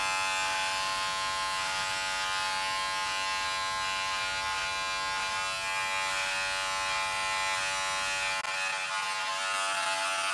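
Electric hair clippers buzz steadily and loudly, close up, while cutting a man's hair at home, a constant whirring drone lasting the whole stretch without speech.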